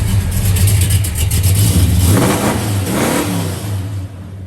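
A 1967 Chevrolet Chevelle's deep, throaty big-block 427 V8 revs repeatedly in neutral, its rumbling exhaust rising and falling in loud bursts close by.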